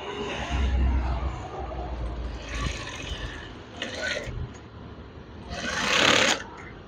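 Sewing machine stitching curtain fabric for wave-style curtains, whirring in close, loud mechanical bursts that speed up and pause, with a voice talking briefly in between.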